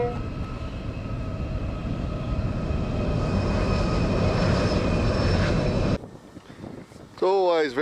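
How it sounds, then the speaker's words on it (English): A long freight train rolls past close by on the Nullarbor rail line near the WA/SA border, a steady loud rumble with rail clatter and a sustained horn tone, ending abruptly before a short burst of varied higher calls. "It's always very exciting when the train goes past, especially when it gives you a bit of a toot"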